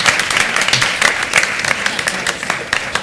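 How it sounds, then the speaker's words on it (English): An audience applauds a panel at the end of a talk on New York City supportive housing, a burst of scattered, moderately loud clapping from a mid-sized room with no speech over it. "Let's give them one more round of applause."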